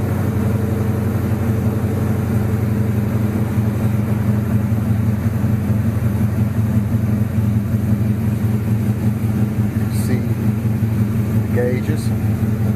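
A Chevy Nova's engine idling while it warms up, a loud steady low rumble that holds unchanged throughout with a faint voice over it.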